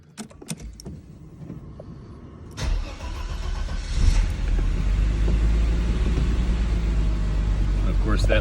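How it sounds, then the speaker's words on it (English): 1992 Mercedes 300CE starting from cold, a few faint clicks and a brief crank before the engine catches with a surge, then settles into a steady, loud, deep idle rumble close to the car. "cold start video, 92-300 CE"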